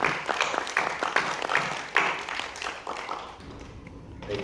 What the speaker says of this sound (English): give Mr. Pike a round of applause for his work this year